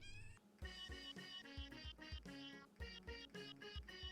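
A cat meowing repeatedly in high, plaintive, kitten-like cries, a rapid run of tonal calls close by and loud, with no talk.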